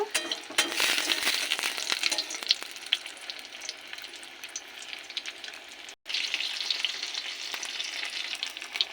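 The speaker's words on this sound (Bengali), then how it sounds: "আবারও দুটো ভেজে নেব" Pieces of paneer pasinda sizzle in hot oil, a dense, crackling frying hiss with occasional stirring clinks, steady and close, briefly cut off once before resuming.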